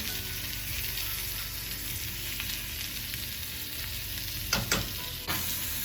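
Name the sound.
sausage and mushrooms cooking in a frying pan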